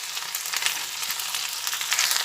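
Rice frying in a pan, a soft continuous sizzle and hiss with faint stirring scrapes, heard close up but fairly quiet throughout.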